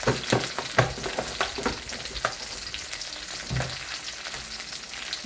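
Whole small shallots frying in oil and stirred in a pan with dried red chillies, a steady close sizzle broken by repeated scraping strokes of a spoon, with no talking.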